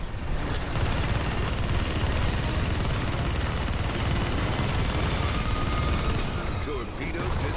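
Rapid gunfire from a Nintendo Switch first-person shooter fills the whole clip as a dense, continuous, loud barrage aimed at an incoming torpedo. It thins slightly near the end.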